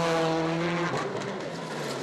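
A Citroën Xsara WRC rally car entered by the Chronos team on a Monte Carlo Rally stage, its engine note holding steady then dropping away into broadband roar and road noise over about two seconds, loud and near.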